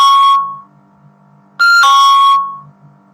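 Two bursts of electronic beeping alarm tone, the first short and fading, the second after a pause of silence, loud and close with no talk.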